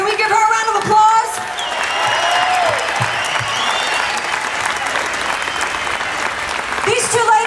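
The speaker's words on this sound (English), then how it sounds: "Can we give her a round of applause?" Sustained crowd applause at an outdoor 912 St Louis political rally, a steady wash of clapping for about seven seconds with cheers and voices mixed in, briefly rising at the start and end.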